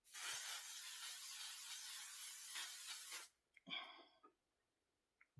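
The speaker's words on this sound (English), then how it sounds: "I'm just going to spray a bit of setting spray." Setting spray from an aerosol can hisses in one long, steady blast lasting about three seconds, close and loud, sprayed onto a face during makeup; brief breathy sounds and small clicks follow.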